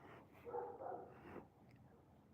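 A neighbour's puppy gives soft, muffled barks and whimpers from a distance, a short cluster of faint yips fading into quiet room tone.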